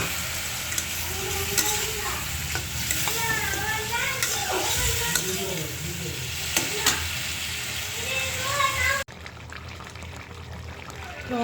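Fish sizzling as it fries in a pan with coriander powder, a steady bright hiss with stirring and scraping clatter throughout, then a sudden drop to quieter sizzle near the end; speech murmurs faintly underneath.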